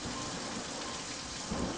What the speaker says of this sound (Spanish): la lluvia empezó a precipitarse de una forma realmente inesperada